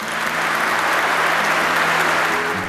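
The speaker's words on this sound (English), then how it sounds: "Let's applaud these two gracious great Irishmen, Father Ware and Dan Sheehan." An audience at a St. Patrick's Day celebration claps steadily for the grand marshals, a dense, loud wash of applause holding evenly throughout without voices.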